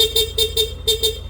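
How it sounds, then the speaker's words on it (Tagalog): Stock horn on a Yamaha NMAX V1 scooter honking in a run of short repeated beeps with brief gaps, steady buzzy tone, fairly close and alone. "pag bumusina si Sir, yung stock horn nya."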